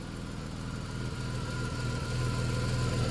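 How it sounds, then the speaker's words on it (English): A 1991 Dodge Grand Caravan engine idles steadily and close by, a low, even rumble with slight vibration and no voices over it. "Idling okay."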